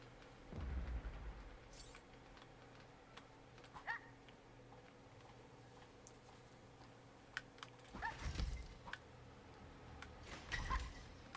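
Scattered soft key clatter from a cat called Aussie stepping across a computer keyboard, coming in a few uneven clusters over a quiet background hum.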